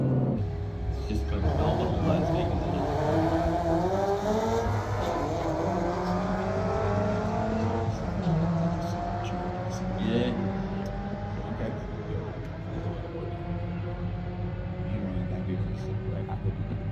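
A turbocharged Toyota GR86 accelerates hard in a drag race, its engine roaring loud and continuous with rising pitch sweeps through short-shifted gears, while voices talk throughout.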